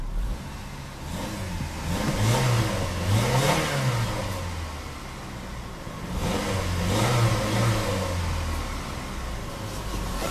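A 1999 Dodge Stratus engine revs up twice, rising and falling in pitch each time, over a steady running rumble heard from close by.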